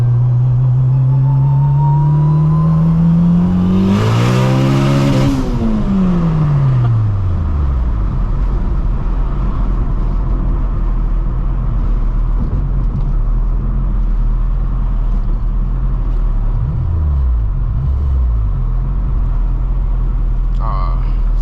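A turbocharged Honda Civic Si engine, about 600 horsepower, revs up with a rising then falling whine as it accelerates and shifts, followed by a steady low drone.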